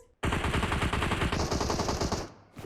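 Rapid automatic gunfire in an online shooter game, a loud sustained burst of about two seconds that cuts off abruptly, with brief talk around it.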